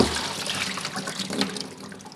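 A deer skull being lowered into a pot of boiling water, producing a steady wash of bubbling, churning liquid noise close by with no talking.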